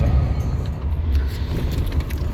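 A vehicle hauling between a quarry and an asphalt plant drives along the road with a steady, close, low engine rumble and tire roar that holds even throughout, with no talking.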